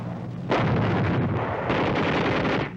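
Wartime bombing in the Philippines in 1945: heavy explosions rumble in two loud, dense bursts of deep booming roar and crackle, close and continuous, with no voices.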